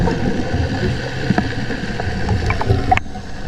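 Boat engines heard underwater by a diver lobster diving, a steady mechanical drone with faint clicks and ticks, the boats fairly distant and continuous.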